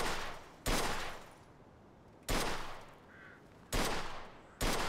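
Four loud, sharp gunshots from a weapon test-fired in Mafia 2, spaced unevenly about a second or more apart, each with a short echoing tail over a quiet outdoor background.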